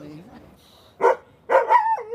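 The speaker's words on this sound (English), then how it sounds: "trying to calm down her dogs that are tied up to a pole" Dogs tied to a pole on a city street corner let out two sharp barks, the second trailing into a whining tone, after a quiet stretch at the start.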